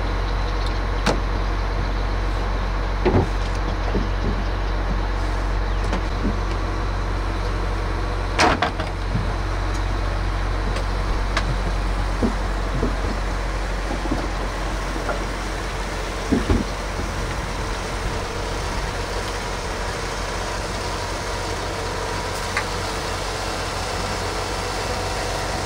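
A 1943 World War II Higgins boat engine running steadily afloat with its exhaust open, a low droning note, occasional clunks and knocks scattered over the continuous hum.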